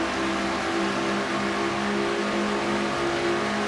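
Budweiser Ford race car engine held at high revs near 9,000 RPM in an oval stock-car racing video game, a steady, loud, continuous whine with no voices.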